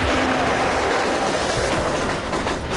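A train at full speed on the track roars past a platform, a loud, close, continuous rush of wheel and rail noise.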